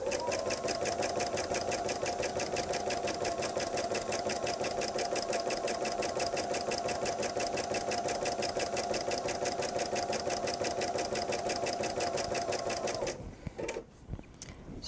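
A sewing machine stitches jellyroll quilt seams in a fast, steady, loud mechanical whir that runs continuously, then stops abruptly near the end.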